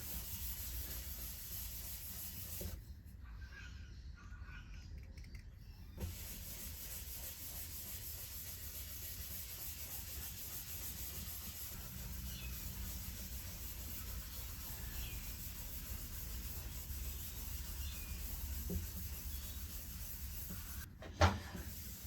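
Grain filler rubbed into the wood of a 1969 Martin D-28 acoustic guitar body, a soft continuous scrubbing close by, with a brief pause partway through and a sharp knock near the end; no talking.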